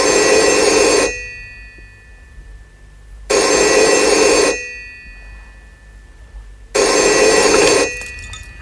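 A telephone rings in a 1989 French police drama, three long loud bursts of bell ringing separated by about two seconds of quiet, with no talk over it.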